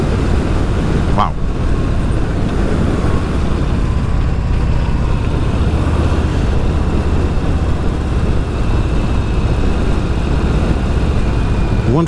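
A Harley-Davidson Street Bob with the 114 engine rumbles steadily while riding, a continuous loud low drone mixed with wind and road noise, no talking.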